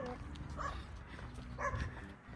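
A dog barks twice in quick succession outdoors on a warm evening by new-construction houses in Folsom, sounding fairly distant under a steady background hum, with faint voices nearby.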